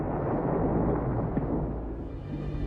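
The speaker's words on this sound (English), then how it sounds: "A volcanic eruption is a terrifying reminder of the violent power of nature." A deep, sustained rumbling roar of a volcanic eruption explosion, steady and heavy before easing slightly toward the end.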